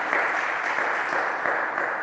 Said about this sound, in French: Acclamons Jésus très fort.